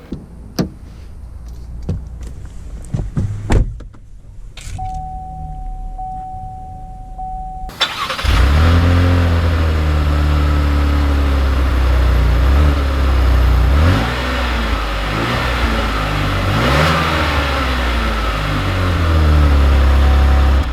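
A 2020 Chevy Blazer RS with a 3.6 liter V6 comes to life: a few clicks and a short chime, then the engine starts and settles into a loud, steady idle and drive hum, with revs rising and falling nearby.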